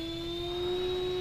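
Small glow or nitro engine of a control line model plane at takeoff: a loud, steady high-pitched buzzing whine held close and constant throughout.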